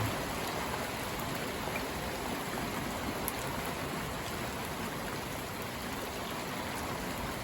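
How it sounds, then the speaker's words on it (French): Heavy, unbroken rain pours down in a steady wash during a stormy late-February spell, a dense continuous hiss with no pauses and nothing else heard over it. "C'est littéralement un déluge permanent."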